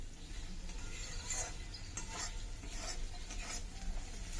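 Spice masala for an egg tehari fries in oil with a dense, close sizzle while a spoon scrapes and stirs it in repeated strokes, with no talk.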